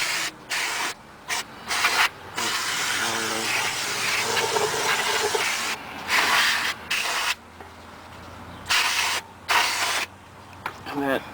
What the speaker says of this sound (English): I'm also going to clean the caliper there, so that way we can get whatever gunk or debris in there